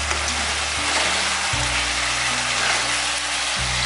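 Ingredients for Bengali vegetarian kochu shak, with moong dal and peanuts, fry in a pan, producing a dense, even, close sizzle with a faint low hum underneath and no talking.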